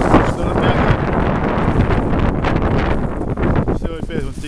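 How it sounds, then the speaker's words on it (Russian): Strong winter wind on a lake in Karelia roars and buffets the microphone without letup, with a voice briefly audible near the end. "Дикий ветер."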